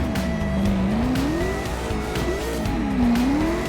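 Car drifting in the video game CarX Drift Racing Online, with a close, loud engine note rising and falling in pitch under continuous tire squeal as the car slides through turns.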